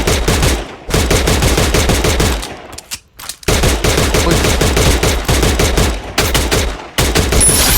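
Rapid automatic gunfire from the Free Fire battle-royale shooter, loud and close, in long sustained bursts broken by a few short pauses, with no talking over it.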